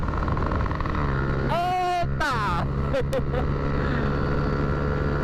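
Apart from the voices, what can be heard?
motorcycle with aluminium exhaust, loud engine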